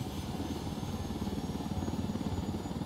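A helicopter in the video game Ghost Recon Wildlands, a rapid, even rotor thump over a low engine drone, steady and fairly faint, with no speech.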